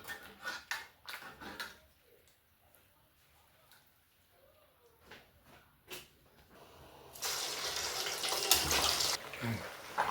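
Water is poured into a pot of pork meat for Haitian griot, a hissing splash that starts late and runs loudly for a few seconds after quieter clinks and scattered speech.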